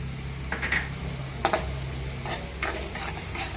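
Onions sautéing in a pan for Gujarati vaseti bhaji, a soft steady sizzle with a low hum underneath and a few clinking stirs of a spoon against the pan, close by with no voices.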